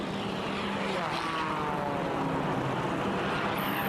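Edge 540 race plane at the Red Bull Air Race in Budapest, its propeller engine droning loud and steady at high speed, with a faint pitch sweep as it passes.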